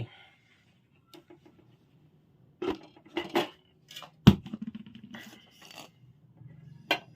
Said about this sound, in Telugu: మూత పెట్టేసి